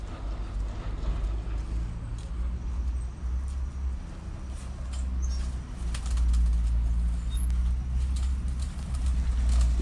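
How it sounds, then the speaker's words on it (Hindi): Paired pigeons in a loft coo softly and flap their wings now and then, a busy, low murmur of birds with a faint background hum. "ये सारे पेयर्स है जी, पेयर्स वाले जोड़ों वाले कबूतर है, जोड़ों वाला खुडा है।"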